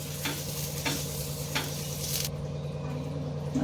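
Thalipith, a mixed-flour flatbread, sizzles on an oiled griddle over medium heat, a close, continuous crackle with a few sharp hisses spiking through, then quietening near the end.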